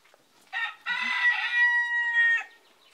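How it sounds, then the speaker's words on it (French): A rooster crows once from a backyard chicken coop in a vegetable garden, a loud, drawn-out call with a brief cluck before it and no other sounds around. "Là c'est notre poulailler."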